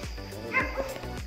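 A dog barks on a rural village street in Vietnam during Tet, giving a few quick, close, yappy barks in a short burst.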